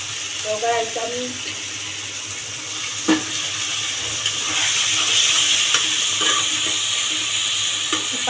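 Pumpkin cooks down with spices and water in a hot pan, a continuous sizzle with occasional stirring taps, while a voice briefly speaks early on.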